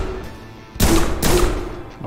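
Pistol shots in the prison video game Prison Simulator, two sharp loud cracks about half a second apart, each ringing out briefly over a quiet background.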